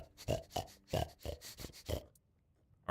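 A pig in the video game Tainted Grail gives a quick run of about six close, throaty grunts and snorts, then goes quiet for a moment before another grunt starts.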